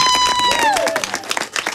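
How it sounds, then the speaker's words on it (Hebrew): An audience in a live public radio broadcast studio, at a 20th-anniversary celebration with the Israeli Opera, applauds and cheers in a dense, loud burst. A tone glides down at the start. "הם מוחאים כפיים לשידור הציבורי"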